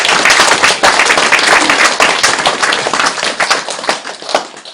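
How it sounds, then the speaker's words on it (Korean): Dense audience applause fills the whole stretch, a steady wash of many hands clapping at once, loud and close with no pauses. "박수 쳐라 이 밤에."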